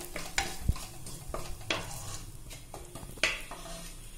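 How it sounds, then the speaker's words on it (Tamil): Cumin seeds sizzling in hot fat in a pan for barley vegetable soup, a steady quiet frying hiss broken by repeated metallic scrapes and clinks of a spoon stirring against the pan, close up with no talking. "இப்ப ஜீரகம் சேர்த்துக்கிறேங்க"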